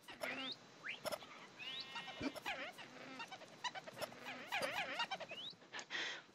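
Minecraft parrots mimic a witch's cackle in the video game. Rapid, high-pitched squeaky chirps and warbling calls repeat in a busy, chattering stream with short clicks in between.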